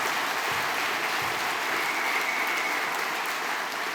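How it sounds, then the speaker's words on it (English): Steady, dense applause from a conference audience honouring a panel of speakers at a union or campaign event, a continuous even wash of many hands clapping for the full few seconds. "Give them a big round of applause."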